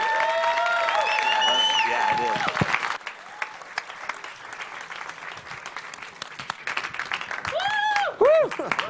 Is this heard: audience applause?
yes